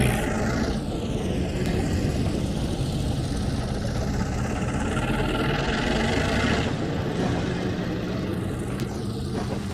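A train locomotive idles in Trainz 2022 on the C&O Hinton route, a steady, loud, low diesel rumble that holds evenly without a break and with no talking.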